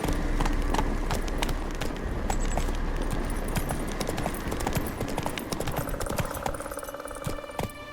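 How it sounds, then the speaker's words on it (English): Roach, Geralt's horse in The Witcher 3, gallops with steady rhythmic hoofbeats over a low ambient rumble, fading somewhat toward the end. "Run, Roach."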